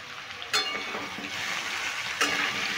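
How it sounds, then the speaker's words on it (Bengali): Kohlrabi curry stir-fried in a pan, a continuous hissing sizzle broken by two sharp scraping stir strokes, close and clear. "এইভাবে আমি একটু নেড়ে চেড়ে ভেজে নেব।"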